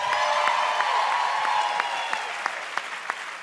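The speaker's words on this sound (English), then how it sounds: "Now, you enjoyed that applause, enjoyed that laughter." An audience claps for an improv comedy performance, a dense, loud wave of applause that fades gradually, with a few individual sharp claps still popping near the end.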